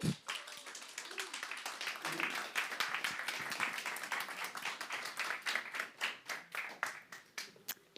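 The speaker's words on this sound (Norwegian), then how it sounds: "give her a big applause on the way up" An audience in Oslo claps to welcome a speaker to the stage at a critical-thinking event. Dense, close handclaps thin out toward the end into distinct individual claps, with no voices.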